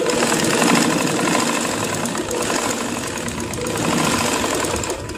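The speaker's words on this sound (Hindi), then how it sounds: "पहले इसकी सिलाई लगा लेते हैं यहाँ पे।" A sewing machine stitches pieces of an old t-shirt with a fast, continuous mechanical whir and rattle, close and steady, stopping briefly near the end, with no talking.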